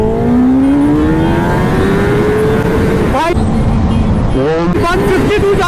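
A Kawasaki Ninja ZX10R motorcycle accelerating hard in first gear, its loud, close engine note climbing steadily before dropping and rising again with gear-like shifts, while someone speaks.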